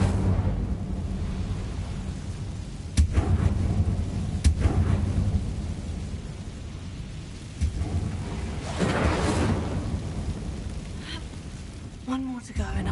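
A fire spell cast in the video game Hogwarts Legacy: a sudden whooshing burst of flame among rumbling, crackling game ambience, with several sharp impacts and a louder swelling roar later on.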